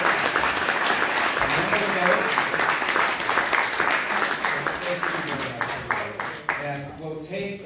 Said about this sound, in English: Candidates, round of applause for all the candidates.